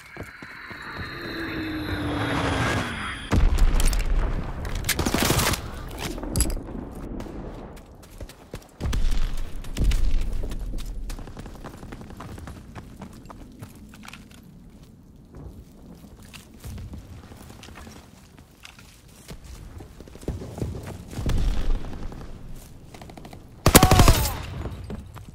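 An Azon bomb air strike in Call of Duty WWII brings several heavy, booming blasts spaced seconds apart, with gunfire bursts, a passing aircraft drone and scattered battlefield crackle between the explosions.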